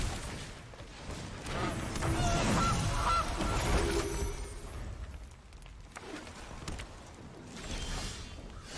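A goose honk sound effect plays as a Goose card comes into play in the MTG Arena digital card game, honking loudly several times with a whoosh, then a softer tail.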